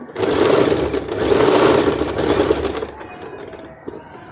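A sewing machine runs in a steady fast stitching burst for about three seconds while sewing the neckline band of an umbrella frock, then stops, leaving faint handling noise.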